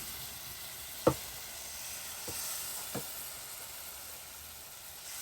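Sauce poured into a pan of frying onions and eggplant, a steady soft sizzle and hiss close by, broken by a few sharp spoon knocks against the pan.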